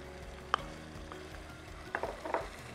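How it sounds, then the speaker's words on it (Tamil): Onion, capsicum, carrot and beans frying together in a pan for chicken pasta: a faint, low sizzle with a few scattered stirring scrapes and clicks, close, quiet, and without speech. "இப்போ வந்து இது ஃப்ரை ஆகிற டைமில் எல்லாமே சேர்த்து போட்டுடலாம்"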